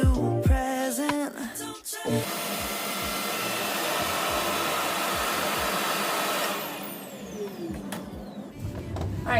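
A Revair reverse hair dryer drying hair gives a steady, loud whooshing motor drone that runs for several seconds and then eases off, with faint music and clicks before and after.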